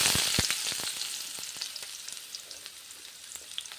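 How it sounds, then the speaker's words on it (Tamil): Onions sizzling and crackling in hot oil while being sautéed until golden for crab gravy, with sharp pops scattered over a steady frying hiss and occasional stirring. "இப்போ வந்து வெங்காயத்தை நல்லா கோல்டன் கலரில் வர்ற வரைக்கும் நல்லா வதக்கி எடுத்துக்கலாம்."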